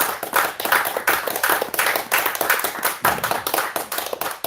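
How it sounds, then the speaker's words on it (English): A small audience snapping fingers after a poem at a youth open mic night, a rapid, bright, continuous patter of many overlapping snaps lasting a few seconds, close and fairly loud. "Snap your fingers for Mia"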